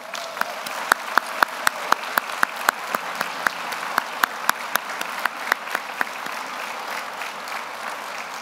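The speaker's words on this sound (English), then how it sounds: "Before a final round of applause for all our award winners" Sharp, distinct handclaps ring out in a chapel as an awards ceremony audience applauds its winners, a sparse scattering of individual claps rather than a dense ovation, fairly close and clear.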